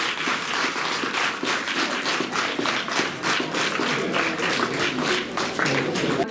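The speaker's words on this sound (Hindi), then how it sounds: "जोरदार तालियां जो है इन बच्चों के" A school crowd claps for a children's group song, a sustained round of applause with a pronounced steady beat running for several seconds, dense and fairly close, with faint background murmur beneath.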